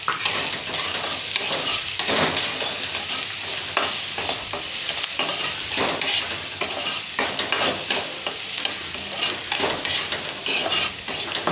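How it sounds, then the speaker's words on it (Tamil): Onions sautéing in a little oil in a pan for a black chana sundal, a close crackling sizzle broken by repeated spatula scrapes and clinks in an uneven rhythm, without talk. "வெங்காயம் நல்லா வணங்கிடுச்சு."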